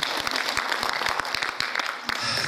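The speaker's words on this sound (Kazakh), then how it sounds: "Bir шапалақ ұрып қойсаңыздар" An audience at a live stand-up comedy show applauds, a dense burst of many close, sharp claps that keeps up steadily from start to finish with no talking.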